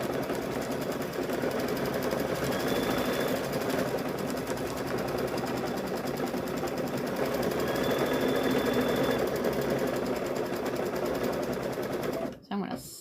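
A sewing machine stitches an apron strap in a fast, even mechanical chatter, close and steady for about twelve seconds before it abruptly stops.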